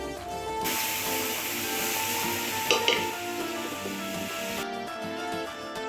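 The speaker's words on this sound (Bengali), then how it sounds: "কড়াইয়ে শুকনো লঙ্কা তেজপাতা ফোড়ন দিয়ে সামান্য একটু হিং দিয়ে দিয়ে দেবো" Dry red chillies, bay leaf and asafoetida hit hot oil in a kadai, bursting into a loud dense hiss that holds for several seconds with a brief clatter of stirring midway, then drops away abruptly.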